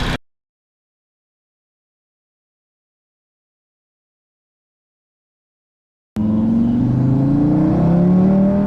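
Tuned 650 WHP Audi RS3 with paddle shifters accelerating hard on a test drive, a loud close engine roar with rising pitch sweeps that arrives abruptly after a long stretch of silence.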